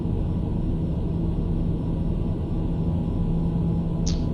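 Steady, loud droning hum of a TBM 850 turboprop engine in Microsoft Flight Simulator 2020, an even cockpit rumble that holds constant throughout, with a brief faint chirp near the end.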